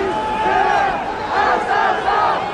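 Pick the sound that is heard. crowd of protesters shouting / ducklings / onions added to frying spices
crowd of protesters shouting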